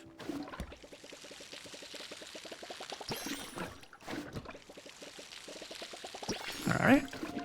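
In a farming video game, a watering can pours water over crops in two bursts of rapid trickling splashes, each lasting a few seconds, with a short pause between them and some background game sounds.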